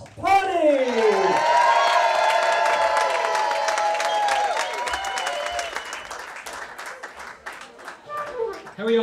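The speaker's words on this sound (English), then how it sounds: "A warm round of applause for the Irish House Party!" Loud audience applause and cheering for an Irish band at an Irish House Party show in Johnsburg, a dense sustained wash of clapping that thins out toward the end as a few voices come through.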